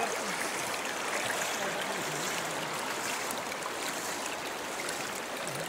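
Water of the Ramganga river runs between mountains in a steady, close rushing wash that stays even throughout, with no voices.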